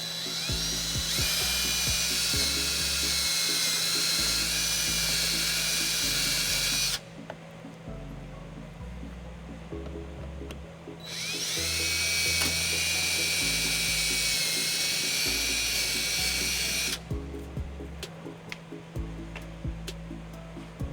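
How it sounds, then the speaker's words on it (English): A power drill whines loudly in two long bursts, biting through a metal trailer wiring bracket on a 2019 Hyundai Santa Fe XL, with a steady mechanical grind between bursts and rhythmic low thumps throughout. "using the bracket as a template, I go ahead and just drill some holes right through it"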